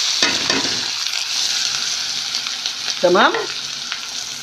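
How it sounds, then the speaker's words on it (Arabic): Chopped onion sizzles steadily in hot oil in a pan for brown fish rice (sayadeya), a close, continuous crackling hiss with a brief spoken word partway through. "هبدأ احمر البصلة"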